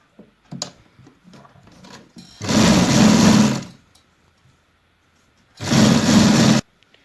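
An electric sewing machine stitches a straight seam along a kurti placket in two loud, steady whirring bursts of about a second each, with faint handling noises and pauses between them.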